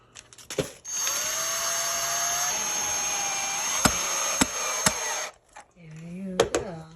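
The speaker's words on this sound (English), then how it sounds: "Just kind of tighten it. Using the screwdriver." A screwdriver tightens a screw on a car audio crossover, with a sustained whirring tool sound broken by several sharp clicks, then a short burst of handling and voice afterward.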